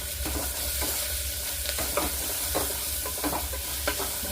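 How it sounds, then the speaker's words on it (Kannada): Ground masala paste is stirred into onions frying in a pan, giving a constant sizzle with repeated scraping and stirring knocks, close and even throughout. "ರುಬ್ಬಿಟ್ಕೊಂಡಿರೋಂಥ ಮಸಾಲೆನ ಹಾಕಿ ಮಿಕ್ಸ್ ಮಾಡ್ಕೊತೀನಿ."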